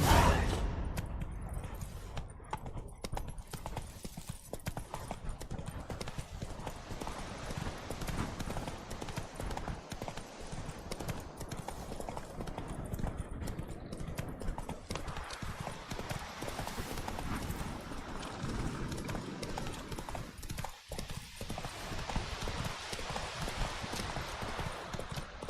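Hooves of a galloping horse clip-clop in a fast, continuous rhythm throughout in The Witcher 3: Wild Hunt, steady and fairly loud with game ambience underneath.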